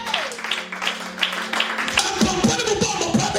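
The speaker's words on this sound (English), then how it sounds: "Clap your hands for the Lord." A church congregation claps hands in a lively, uneven burst after a sustained tone cuts off, with scattered sharp claps and some shouting over a roomy background.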